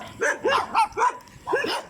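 A dog barks five times in quick succession along a road, sharp, fairly close yaps in a loose rhythm with a brief pause before the last bark.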